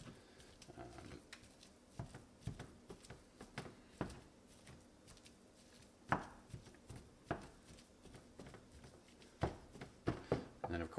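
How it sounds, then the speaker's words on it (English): Ground beef being chopped and broken up with a kitchen utensil, giving a steady series of sharp, close knocks and scraping taps in an irregular rhythm, with no talking. "basically chopping up ground beef or ground meat of any kind"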